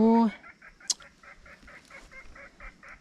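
Chicken clucking: a loud squawking call at the start, then a steady run of short, rhythmic clucks at moderate distance, with no talk.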